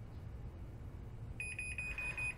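Chamberlain garage door opener giving a series of warning beeps before the door closes, a rapid string of bright electronic tones starting partway through over a steady low hum, moderately faint.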